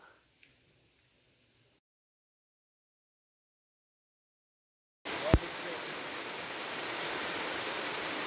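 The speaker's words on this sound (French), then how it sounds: "Et on finit avec une petite cascade." A small mountain waterfall in Tyrol rushes loudly and steadily after a few seconds of near silence, a broad, continuous splashing roar with a faint sharp knock near its start.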